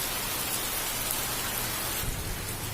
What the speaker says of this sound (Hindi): कितना अच्छा लग रहा है बारिश।